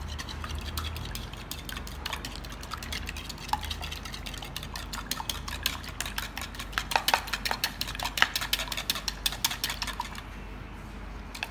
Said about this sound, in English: So I'm just gonna add in this bowl over here. Just gonna whisk these.